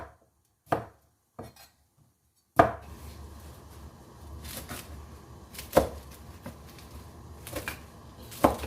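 A knife cuts tomatoes into halves on a board: a few isolated chops, then a run of sharp, close knocks at an uneven rhythm over a low background, with no talking.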